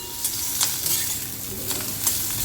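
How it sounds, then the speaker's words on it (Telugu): Peanuts and green chillies fry in a pan with a steady close sizzle, punctuated by a few sharp scraping stirs, and no talking. "పల్లీలు వేగినాయి, పచ్చిమిర్చి వేగింది"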